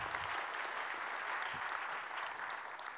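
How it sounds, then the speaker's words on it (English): An audience at a conference keynote applauds, a fairly distant, steady wash of many hands clapping that holds evenly for a few seconds. "For that, you should clap, yeah."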